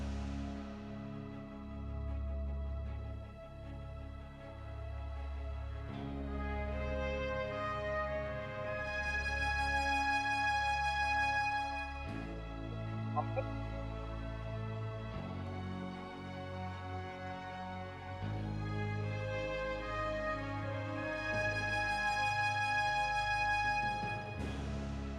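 Game music motif for a character met on a mountain: a layered instrumental phrase with bass, sustained chords and melody moving through several sections, played steadily and fairly quiet, without talking.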